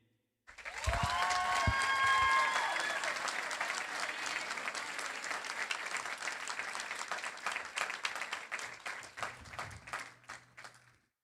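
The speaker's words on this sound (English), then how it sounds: "Let's give him another round of applause." A graduation ceremony audience breaks into loud applause after a senior's speech, a dense burst of clapping that starts abruptly, holds strong, then thins into scattered claps as it fades.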